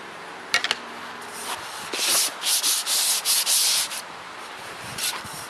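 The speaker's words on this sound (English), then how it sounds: "Now I'm doing this by hand because I feel like I can scratch this up better" Hand sanding of fiberglass rocket fins, a series of close, loud scratchy strokes in bursts with short pauses between, after a few light taps at the start.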